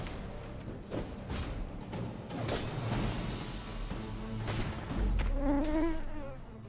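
A giant mosquito in the video game The Bazaar buzzes in a close, continuous whine over busy game sounds, with the high droning tone rising and wavering toward the end.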